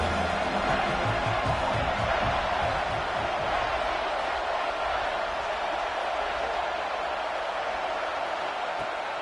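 Steady roar of a football stadium crowd at an Aggies versus Alabama game, loud and continuous throughout, a dense wall of broadband noise with faint murmuring underneath.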